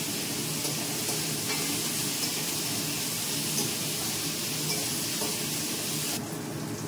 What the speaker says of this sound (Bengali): আলু আর কুমড়ো ভাজা হয়ে গেছে